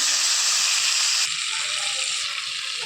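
Onion, ginger, garlic and green chili paste frying in hot oil, a loud close sizzle that drops abruptly in intensity partway through and then keeps crackling more softly.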